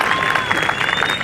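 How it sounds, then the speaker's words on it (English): Spectators at a polo final, the Sir Pratap Singh Polo Cup, applaud after a goal, a short loud burst of dense clapping with a thin steady tone running through it. "let's do a big round of applause"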